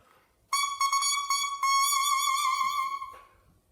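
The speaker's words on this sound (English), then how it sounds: "when I take the reed out the top, or my mouthpiece, it sounds like this when it's on its own" A bare oboe reed is blown on its own, giving a thin, buzzy, reedy squawk. Several short crowing bursts lead into one sustained tone that stops abruptly.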